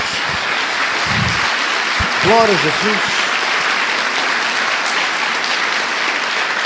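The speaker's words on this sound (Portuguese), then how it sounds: "Dê uma salva de palmas ao Senhor" A church congregation claps together in sustained, even applause throughout, with a voice briefly calling out over the clapping partway through.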